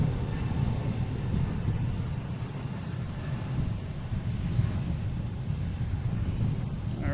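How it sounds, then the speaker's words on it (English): A Delta Airbus A321neo bound for Salt Lake City takes off at Boston Logan, a steady distant jet roar mixed with wind noise, constant throughout with no talk. "And a Delta taking off."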